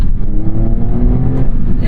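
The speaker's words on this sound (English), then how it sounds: "This M96, it's not Porsche's strongest engine. It doesn't sound amazing." A 2003 Porsche Carrera 996.2 with its naturally aspirated M96 flat-six accelerating, a loud, close, steady engine drone heard from inside the car, with no talking.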